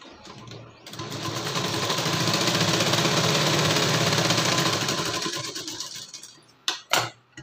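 A sewing machine stitches tucks on a shawl collar blouse, its fast steady whirr running for about five seconds before stopping, followed by a couple of brief sharp clicks.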